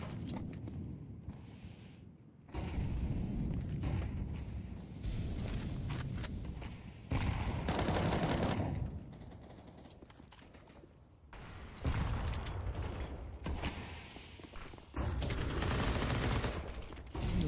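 Bursts of video game gunfire from Galil, MAC-10 and Tec-9 weapons come in several separated volleys of rapid shots, mixed with faint mechanical clicks between the bursts.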